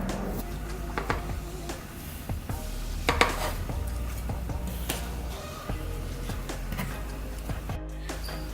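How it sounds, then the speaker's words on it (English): Knife slicing cucumbers on a board in a home kitchen, with a run of irregular close cutting taps and clicks over steady background noise and no talking. "So next we're going to cut up our cucumbers."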